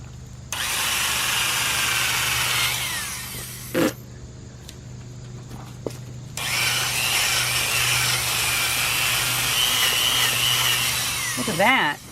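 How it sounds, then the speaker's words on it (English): A wire wheel on a power drill grinds loudly against acid-softened mortar on reclaimed brick, two long harsh scrubbing runs separated by a pause with the motor whining up and down. "it's seeming like a wire wheel makes this actually a pretty useful process"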